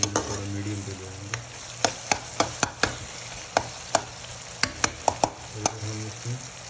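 Pumpkin pieces with salt and green chilli are stirred while roasting in a pan. A spatula clacks sharply and repeatedly against the metal over a steady low sizzle, close by.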